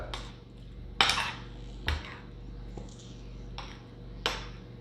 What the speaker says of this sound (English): So what we're gonna do before putting the chicken in there is we're gonna stir this a little bit.